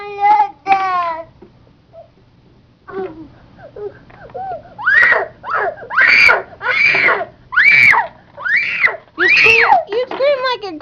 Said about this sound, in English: You scream like a girl.